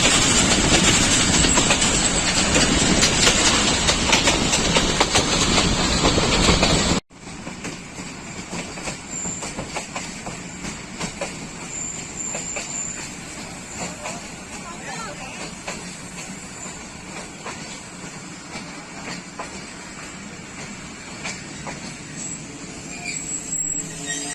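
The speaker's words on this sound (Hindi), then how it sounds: "डाउन मिल्लत एक्सप्रेस चिनियावाला पहुंच रही है, तकरीबन 15 मिनट लेट।" Millat Express of Pakistan Railways pulling into Chiniawala station, a loud rolling train rumble that cuts abruptly, then steady wheel clatter and carriage noise with faint high squeals, running throughout.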